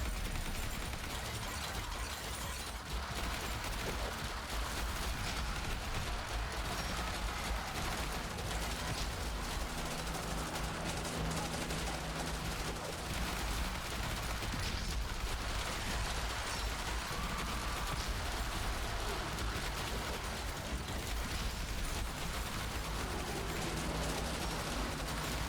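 Turrets in Yet Another Zombie Survivors fire constantly in a dense, unbroken wash of rapid shots and impacts layered with game effects, loud and steady throughout without pauses.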